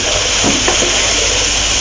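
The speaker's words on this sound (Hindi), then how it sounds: "पहले थोड़ा सा हम इसको भूनेंगे आपस में दोनों चीज़ों को।" Ridge gourd (tinda) and chicken sauté in a pan with a loud, dense, continuous sizzle and faint stirring scrapes, close up.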